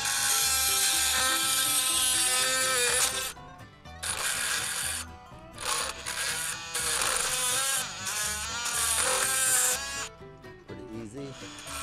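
Oscillating multi-tool fitted with a carbide titanium blade cutting through a hardened screw: a loud, close, continuous high buzzing with shifting pitch, briefly dipping and resuming as the blade bites.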